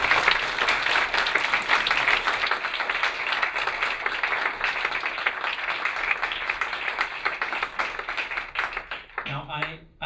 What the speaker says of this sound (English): Now please give them a round of applause.